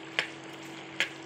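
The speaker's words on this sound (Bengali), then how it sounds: "পেঁয়াজ লাল করে ভেজে নিতে হবে।" Chopped onion frying in hot oil makes a steady, quiet hiss broken by two sharp pops about a second apart.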